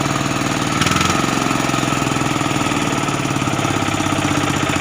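An auto rickshaw engine idles steadily, close and loud, with a low rhythmic chugging throughout and a brief shift in tone near the start.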